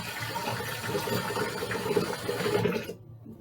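Hot water from a kitchen tap runs into a pan in the sink, a close, continuous gushing splash that stops abruptly near the end.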